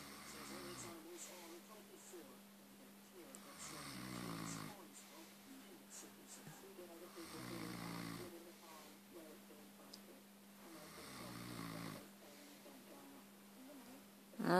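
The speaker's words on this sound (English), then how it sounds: "Stop snoring." A person snoring in long, regular cycles, each slow rasping breath repeating about every three to four seconds, close and fairly quiet with no talking.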